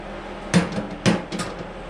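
A hand hammer striking a part on a 1989 Chevy K1500 truck, two sharp metallic blows followed by a lighter third tap, close and fairly loud over a low background hum.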